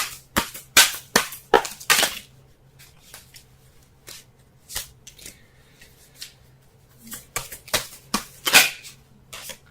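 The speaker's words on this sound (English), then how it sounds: "Let's go ahead and shuffle so we can get a clearer understanding of the cards here" Close, crisp tarot card shuffling in bursts of sharp snapping riffles, with quieter pauses of handling between them and a low hum underneath.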